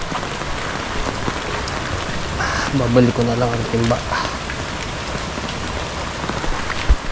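Steady rain patters on a surface in a constant soft hiss. A person speaks briefly midway, and a short tonal honk-like sound briefly rises above the rain.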